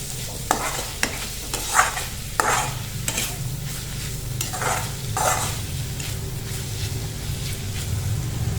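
Bitter gourd peel stuffing fries with onions in a pan. A soft, steady sizzle runs throughout, broken by several sharp scraping stirs of a spoon against the pan.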